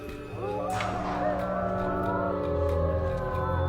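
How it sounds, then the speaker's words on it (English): A wolf howl from a TV show plays as a long, steady wailing tone layered with several overlapping howling voices, loud and continuous throughout. "Sounds like multiple wolves."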